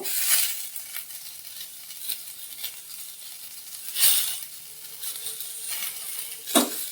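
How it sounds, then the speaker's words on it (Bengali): Papaya and potato, first softened in a pressure cooker, fry in a little oil with spices, giving a steady soft sizzle broken by a few sharper stirring scrapes and clinks. No one speaks. "এটা একটু ভেজে নিচ্ছি।"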